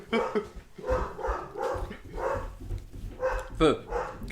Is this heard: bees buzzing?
no